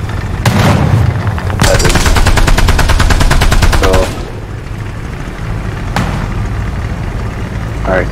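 Video game gunfire in a battle at Parnu: loud rapid automatic bursts, a short shot, then a sustained fast-rattling burst of about two and a half seconds, followed by quieter single shots over a background rumble.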